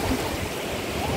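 Large ocean waves on a beach wash in and pull back out, a continuous loud rushing and churning of water with no voices.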